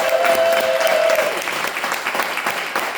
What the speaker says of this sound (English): I'd like for everyone to give an applause for PNC Bank and Northwest Bank.